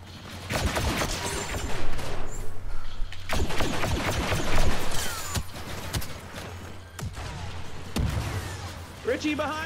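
Blaster gunfire in the video game Star Wars Battlefront 2, a series of loud sharp shot bursts with mechanical clatter in a busy firefight, while people talk over the action.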